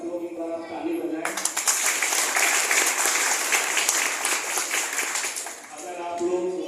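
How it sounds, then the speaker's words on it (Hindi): An audience at a small school event claps for a girl, a burst of dense applause that starts abruptly after talk, holds steady, then fades as a voice returns. "मैं इसके लिए चाहूँ कि सब लोग एक बार आप ताली बजाएं।"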